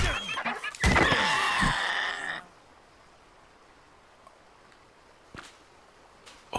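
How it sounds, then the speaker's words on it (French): A chicken in ARK Survival Ascended gives a loud, close burst of clucking that lasts about a second and a half, followed by near-quiet broken only by a few soft taps. "Oh, une poule!"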